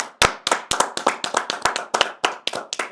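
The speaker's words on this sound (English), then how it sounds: "Can we have a round of applause for" A small group claps at a high-school event, about a dozen sharp, distinct hand claps in a quick, slightly uneven rhythm, close and clear, with no voices over them.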